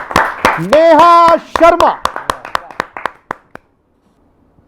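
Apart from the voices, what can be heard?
audience clapping at poetry gathering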